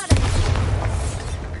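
Bombarda blasting spell in Hogwarts Legacy on PlayStation 5: a single sharp, loud explosive crack with a short booming tail.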